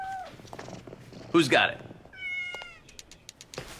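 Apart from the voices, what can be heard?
cat meowing and purring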